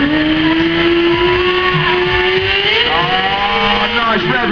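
Stunt motorcycle at a British motorcycle show arena in Peterborough, engine held bouncing on the rev limiter in a loud, sustained high-pitched buzz, pitch wavering slightly near the end, with crowd and commentary noise underneath.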